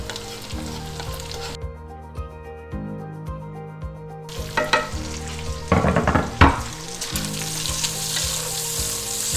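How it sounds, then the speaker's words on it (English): Bacon and onions sizzle and fry in a pan, with a steady close crackle and a few sharper stirring scrapes and bursts toward the middle. "So we're going to add the onions and let that caramelize a little bit."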